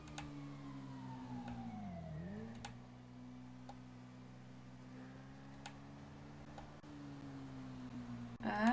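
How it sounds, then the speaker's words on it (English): A steady engine drone in a driving video game with a passing siren-like wail that rises and falls, plus faint ticking clicks in the background. "Why did I hear sirens?"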